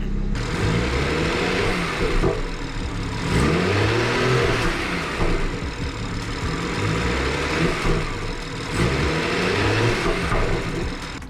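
A repaired BMW 440i engine running, its steady mid-pitched idle rising into repeated revs and falling back at regular intervals, heard close and alone.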